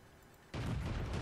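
A tank gun fires in the video game World of Tanks, a single sudden loud boom that breaks in halfway through after near silence and then lingers as a broad rumbling blast.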